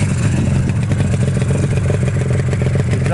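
A 1976 Yamaha RD400C two-stroke motorcycle runs close by with a steady, buzzing engine and exhaust note, loud and continuous throughout the short stretch.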